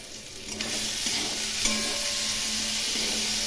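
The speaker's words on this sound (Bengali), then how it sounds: "এখন খুব ভালো করে কষিয়ে নেব" Cumin powder, salt, turmeric and chili powder frying in oil for a hilsa and eggplant curry, stirred in the pan. A steady, close sizzle runs throughout, broken by scraping strokes of the spatula.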